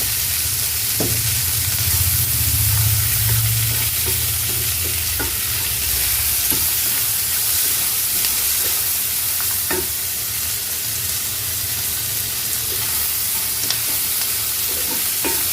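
Green chillies and tomatoes sautéing in a pan for chutney make a dense, steady hiss of frying with a low rumble early on and intermittent spoon taps and scrapes, close and with no voices.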